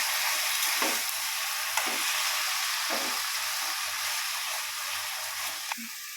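Grated fresh coconut is stirred in a frying pan while making taro greens with hilsa fish head, a steady hiss of frying under repeated scraping strokes of a spatula, no talking.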